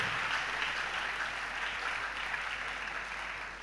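Steady audience applause at a WAEC distinction awards ceremony for 2023 WASSCE students, a dense, even wash of clapping with no voices, tapering slightly at the end.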